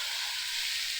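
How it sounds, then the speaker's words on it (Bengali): Spice paste ground with poppy seed and cumin sizzles steadily in hot oil, a close, even frying hiss with no talking. "বেটে রাখা মশলা যেটা দিয়েছিলাম, একটু পোস্ত আর একটু জিরে অল্প পরিমাণ, ভালো করে কিন্তু মশলাটা কষিয়ে নেব"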